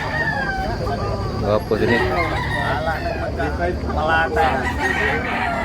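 Roosters crow repeatedly at a busy poultry market in Tabunok, Talisay, Cebu, with clucking birds around and people talking throughout.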